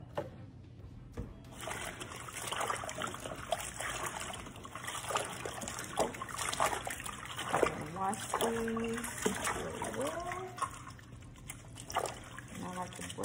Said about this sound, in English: Bring my cabbages over to the sink, dump them in the water to wash them.